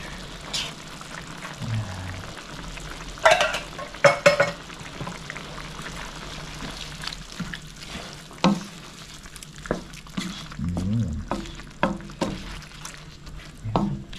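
Food sizzles and fries in a pan with vinegar for adobo sa gata, crackling steadily with occasional louder spatters and stirring scrapes close by. There is no talking.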